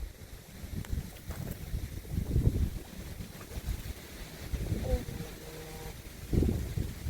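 Wind gusts buffet the microphone outdoors at a fishing spot, rumbling in uneven surges that rise and fall over the clip.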